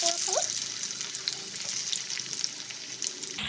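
Onions and bay leaves frying in hot oil for a chicken curry, a steady close sizzle and crackle filling the pan, with a short stir and scrape at the start and an abrupt stop near the end.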